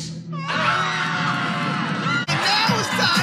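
A panicked zoo crowd in a SpongeBob SquarePants cartoon screams and whoops continuously and loudly, many voices shrieking together with a brief dip before the uproar swells again.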